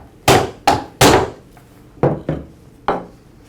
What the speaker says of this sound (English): To remove it, I'll strike the end of the shaft with a rubber mallet